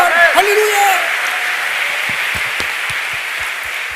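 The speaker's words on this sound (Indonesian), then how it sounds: "Kita yang percaya berikan tepuk tangan buat Tuhan." A church congregation applauds together as a steady, dense wash of clapping, with a voice and some sustained tones sounding over it at the start.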